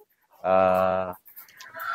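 Chickens at a laying hen farm give a single loud, drawn-out honking cluck up close, followed by fainter clucks and farm noise.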